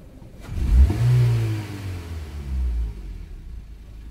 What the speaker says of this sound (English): watch how engine drop RPM